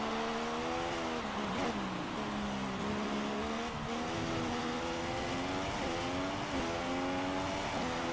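A Manor Formula 1 car engine in the F1 2016 video game, racing in the rain in Spain, drones steadily with rising and falling pitch as it shifts through gears, loud and continuous with no talking.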